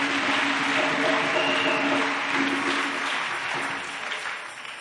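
A church congregation applauds for Jesus Christ, a dense, steady wash of many hands clapping close by that holds for several seconds and eases slightly at the end.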